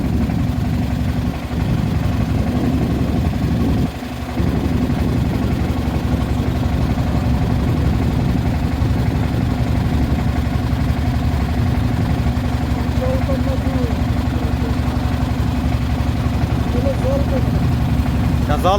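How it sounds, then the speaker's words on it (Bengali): A tourist boat's engine drones on Tanguar haor as the boat approaches: a steady, loud, low rumble that runs unbroken throughout, with faint voices in the background. "নৌ জাহাজ চলে আসছে এদিকে"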